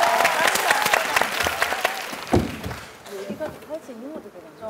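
A burst of studio audience applause on a Korean TV talent show, loud and dense at first, fading out as a voice starts speaking.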